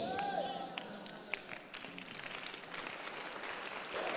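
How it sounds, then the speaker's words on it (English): A church congregation claps and applauds, the burst loudest at first and then fading into scattered claps, taps and crowd murmur. "stop clapping"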